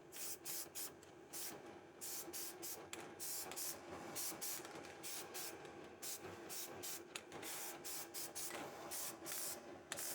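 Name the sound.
spray painting new truck U-bolts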